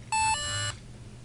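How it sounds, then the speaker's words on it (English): A single short electronic beep from a Cybiko handheld computer, a clear steady tone lasting just over half a second, sounds close against a low background hum. "That was the beep there."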